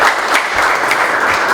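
A crowd applauding steadily, dense clapping filling the room, loud and close throughout.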